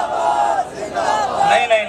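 A crowd chants religious slogans in unison, a loud massed roar of voices with rising and falling shouts.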